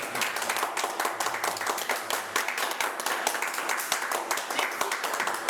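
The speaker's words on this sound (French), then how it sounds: "On va vous applaudir pour votre présence et vos chaleureux applaudissements." Theatre audience applauding at the close of a show, dense steady clapping from a full house that keeps going for several seconds at an even level.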